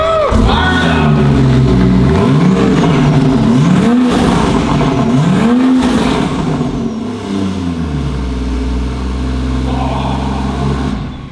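A Toyota GR Supra Hyper Boost Edition fires up and revs hard at an auto show, the engine swooping up and down in repeated loud, close blips before settling into a rumbling idle.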